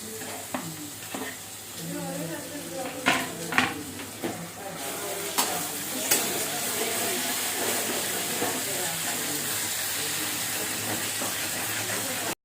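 Onion, ginger, garlic and tomato sautéing in oil for a seafood dish give a steady sizzle that grows fuller partway through, with a few knocks and scrapes of stirring early on.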